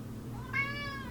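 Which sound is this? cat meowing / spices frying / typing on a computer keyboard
cat meowing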